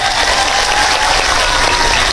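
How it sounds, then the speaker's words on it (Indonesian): Loud, close applause from a gathered group during a religious recitation session, dense continuous clapping with no talk over it. "Tepuk tangan."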